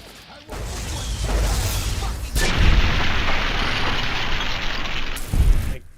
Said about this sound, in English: Did they not hear the sounds of a Tesla cannon and a chicken power armor coming up behind them?